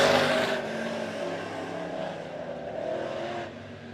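USRA modified race cars roar along the front stretch at Monett Motor Speedway, a loud engine drone that swells and fades as cars pass near, with a brief dip before another rising pass.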